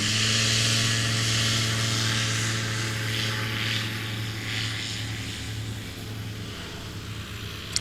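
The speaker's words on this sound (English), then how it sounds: "And Scott Tyree with an excellent takeoff." At a Swamp STOL competition, a short-takeoff propeller plane roars loudly and close with a strong droning engine and buzzing prop tone, then gradually fades as it climbs away.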